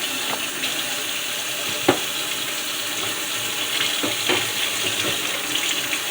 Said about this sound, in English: what I'm doing right now is running the hot water through it